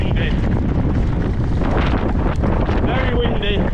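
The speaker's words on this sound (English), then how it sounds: "Very windy, but very nice and sunny." Strong wind buffets the microphone on the sunny hilltop of The Wrekin, a continuous loud roar with gusty swells and rumbling low-end turbulence throughout, no clear voices.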